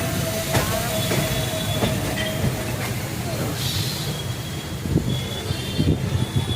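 Train crossing the Vaigai river bridge near Madurai, a loud, steady roar of rolling wagons with rhythmic wheel clatter and occasional high squeals, heard close from on board.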